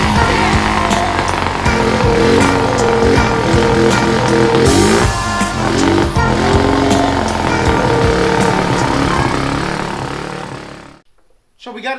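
A Honda Rancher ATV engine running on full choke, loud and close, a steady buzzing roar with a rough, uneven beat that holds for about eleven seconds before it suddenly cuts out.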